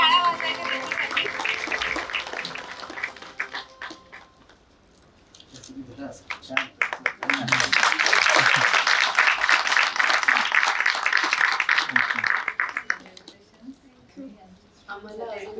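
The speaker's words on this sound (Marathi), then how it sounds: "जोरदार टाळ्या वाजवायच्या त्यांच्यासाठी." An audience applauds an award recipient at the Sarthi Sanman ceremony at MGM University, a crowd clapping in two bursts: a shorter one at first, then a louder, fuller round in the middle that fades out. A voice speaks over parts of it.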